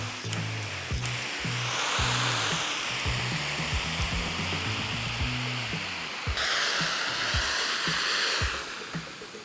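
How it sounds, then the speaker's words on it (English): Water spraying to rinse a scrubbed hot tub cover makes a continuous broadband rush that shifts in tone partway through, with a low tonal backing underneath and no speech. "Once the cover's been scrubbed, then you just go ahead and rinse it off."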